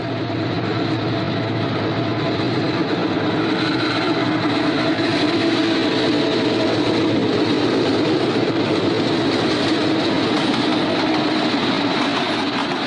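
Delaware & Hudson freight train rolling over the Stareka Viaduct near Lanesboro, east of Susquehanna: a steady, loud, continuous rumble and rail roar with faint wheel clatter, unbroken for the whole stretch with no voices.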